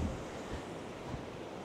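Wind gusts in a steady, fairly faint rushing roar outdoors on a cold, clear day, with no voices.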